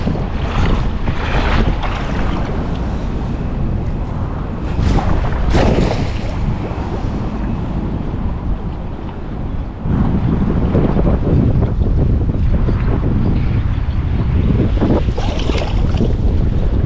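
Rough open sea around a small fishing boat, with strong wind buffeting the microphone and waves washing and slapping against the hull in a loud, continuous roar.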